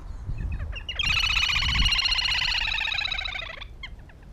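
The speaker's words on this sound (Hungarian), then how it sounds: "Ha két kisvecsök találkozik, jellegzetes hangjukon üdvözlik egymást." Two little grebes call to greet each other, a rapid high-pitched trilling whinny that runs for about two and a half seconds, close and clear over a low background rumble.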